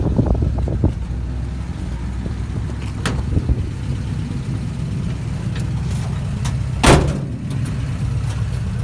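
A 1947 Ford Super Deluxe with a three-speed column-shift manual sets off for a drive, its low engine rumble steady throughout, with a few clunks and knocks near the start and a louder bang close to the end.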